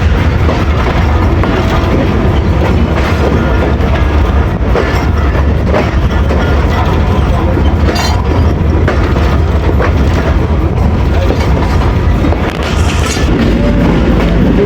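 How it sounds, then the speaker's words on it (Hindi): The Karachi Express rolls into platform 4 at Lahore Junction in the evening, a loud, continuous rumble of wheels and carriages with rail clatter, heard up close from the platform. "अब कराची एक्सप्रेस लाहौर जंक्शन के प्लेटफार्म नंबर 4 पे अप्रोच बना रही है"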